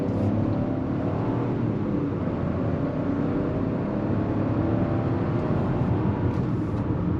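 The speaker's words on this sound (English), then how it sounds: "The 3-cylinder actually makes a decent sound, and there's not too much vibration from it" Steady, loud engine drone from the 3-cylinder of a 2025 Chevrolet Trax LT while driving, a constant low hum with road noise and no speech.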